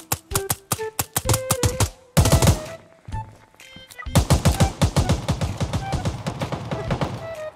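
Loud machine-gun bursts in a shooter video game: rapid, sharply spaced rounds, a brief pause, more bursts, then a long unbroken stream of fire close up.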